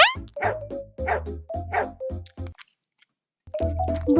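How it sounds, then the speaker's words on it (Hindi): A fierce black dog attacks in a cartoon with a rapid run of loud, close barks and growling snaps, pausing briefly in near silence before a fresh burst of barking. "उसमें से एक खूनख्वार कुत्ता निकला काले रंग का, जिसने फौरन केली मेली पर हमला कर दिया"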